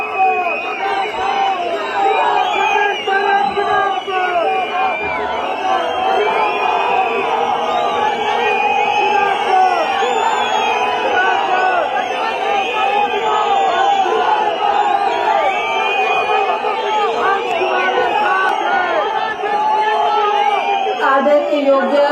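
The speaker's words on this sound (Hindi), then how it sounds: "जोरदार तालियों से स्वागत करें श्रीमती प्रतिभा सिंह जी" A political rally crowd cheers and claps loudly and steadily for over twenty seconds, a dense roar of voices and whoops with applause underneath, close and continuous without pause.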